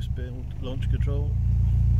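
A car engine with an Ignitron ECU holds on launch control, a heavy low rumble that builds slightly and stays loud, while a voice speaks briefly over the first half.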